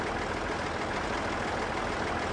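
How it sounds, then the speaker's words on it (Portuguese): The three-cylinder engine of a Zetor 3011 tractor in Farming Simulator 17 idles in a steady, low, rumbling drone with hiss, constant throughout and without talk. "Motor 3 cilindros"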